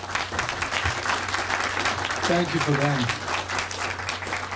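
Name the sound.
audience applause at ribbon cutting ceremony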